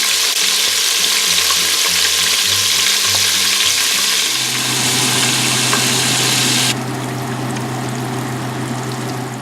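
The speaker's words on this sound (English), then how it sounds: "So I've added my shrimps into my pot, and now I'm going to let it fry for a minute or two" Battered shrimp deep-fry in a pot of hot oil with a loud, dense, continuous bubbling sizzle and a low mechanical hum beneath, the sizzle easing slightly toward the end.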